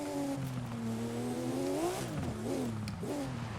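Reworked Porsche 911 by Singer in the Forza racing game, its engine revving steadily then rising and dipping through gear changes, loud and close with no talking.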